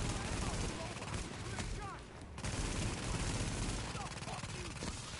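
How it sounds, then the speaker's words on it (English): Rapid automatic gunfire from a weapon hip-fired in The Division, sustained bursts with a brief lull near the middle, loud and close over a dense game soundscape. "I usually don't hip fire, but now I am."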